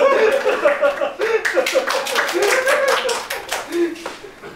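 A live comedy audience claps, with a burst of scattered applause and some laughter and chuckles mixed in, fairly close and lively, tapering off toward the end.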